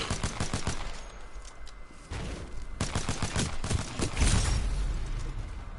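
P2016 pistol firing in the battle royale shooter Apex Legends, a rapid string of sharp, punchy shots in quick bursts, loud and close, with a brief pause midway before the firing resumes.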